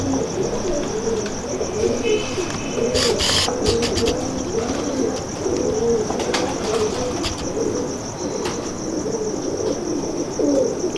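Golden pigeons coo in a loft, and their low, rolling coos repeat over and over. The cooing sits in steady background noise and is broken by occasional clatter and higher chirps.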